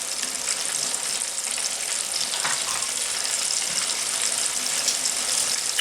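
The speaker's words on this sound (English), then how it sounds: "fry these in batches" Chicken wings frying in oil, cooked in batches: an even, continuous crackling hiss of moderate loudness with faint small pops, no voices.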